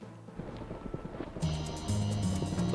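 Racehorses gallop out of the starting gate in the Gallop Racer horse-racing video game, with close, rapid hoofbeats that grow louder and denser as the field breaks away.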